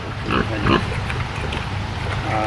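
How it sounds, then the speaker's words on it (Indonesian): Pigs on a farm grunt and oink after feeding, a cluster of short close grunts over steady background noise. "Oke, babi-babi sudah makan."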